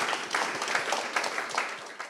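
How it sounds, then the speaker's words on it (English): An audience at a forum during La Biennale di Venezia 2022 applauds with a steady, moderately loud patter of many hands, a few sharper claps standing out from the continuous wash. "And a big round of applause for Monilola also, please."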